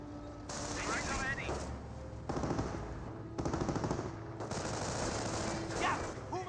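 Rifle squad volleys in the Company of Heroes video game: repeated bursts of rapid gunfire over a steady battle din with engine hum and voices, loud and continuous through the clip, with stronger bursts near the middle.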